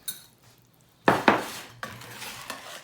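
Batter ingredients whisked together in a bowl in a home kitchen, with a few sharp metallic clinks of the whisk against the bowl followed by a brief scraping swish, close and fairly quiet.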